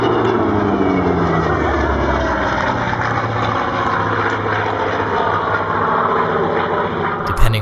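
A Hawker Fury's 2,500-horsepower Bristol Centaurus 18-cylinder sleeve-valve 53.6-litre piston engine roars steadily and loudly throughout, a deep continuous drone with a brief louder pop near the end.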